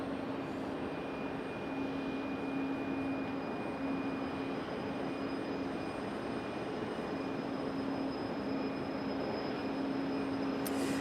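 Icelandair airliner on pushback at Raleigh-Durham airport, a steady distant jet engine drone with a constant tonal whine, held evenly throughout without voices.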